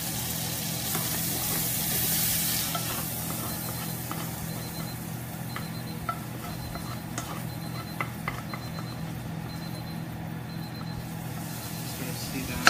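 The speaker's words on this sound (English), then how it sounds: "Brown that butter up quite a bit. Got those garlic chives in there." Butter browning with garlic chives in a pan gives a soft, steady sizzle close by, with light ticks and stirring clinks and someone talking throughout.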